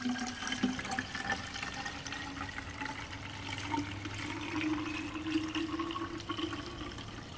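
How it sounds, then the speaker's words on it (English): Coolant being poured into the cooling system of a BMW E36 during a bleed, a steady liquid trickle and gurgle that runs continuously at moderate level with no talk. "So we're just gonna sit here and add as much coolant as we can,"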